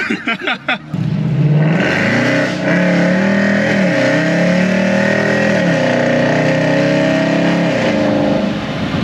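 A 2008 Mercedes C63 AMG with straight-pipe exhaust revs loudly on a rainy drive, its close, raw engine note climbing and dropping sharply through downshifts with crackling blips.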